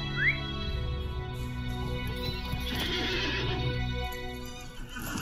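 A horse neighs in a Lord of the Rings video game, a clear whinny rising early over a steady layered backdrop of game music and ambience.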